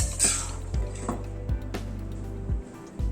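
Metal pot lid lifted and handled during cooking of a one-pot rice meal, a series of sharp clinks and knocks of metal on metal at roughly half-second intervals, close by, with no talk.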